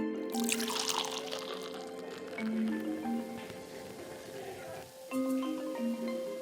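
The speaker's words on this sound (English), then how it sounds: "Yo Jack, pour a glass of the finest beer you got." Beer is poured into a glass in an animated bar scene, a soft, steady liquid trickle under a background of sustained musical tones.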